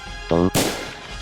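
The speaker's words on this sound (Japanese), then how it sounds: "一発の銃声が廃墟となった市庁舎別館で割れた窓ガラスを伝い、廃墟となった会場市内の向こう側まで響き渡った" A single sharp gunshot rings out as a story sound effect, a loud broadband crack with a long echoing tail, preceded by a short buzzing tone.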